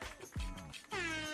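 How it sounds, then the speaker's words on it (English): Air horn sound effect played in two short honks, each brief and tonal with a slightly wavering pitch, thin and fairly quiet. "Is that supposed to be an air horn?"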